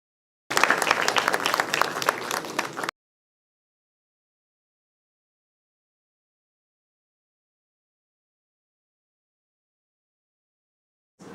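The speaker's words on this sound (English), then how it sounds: "Let us give him a round of applause" Audience applause at a felicitation ceremony during a medical college CME event, a dense burst of clapping for about two seconds, then a long silence before a brief return of sound at the very end.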